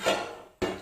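A lid is set on a clay cooking pot holding fish, giving two quick, close hard knocks a fraction of a second apart, each with a short ringing decay.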